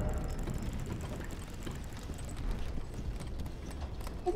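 A horse gallops in Elden Ring with quick, dense hoofbeats over a low rumbling game background. A brief sharper sound comes at the end.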